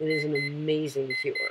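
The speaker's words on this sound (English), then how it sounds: "so that was my alarm" An electronic alarm clock rings with steady, evenly pulsing tones while a person talks over it.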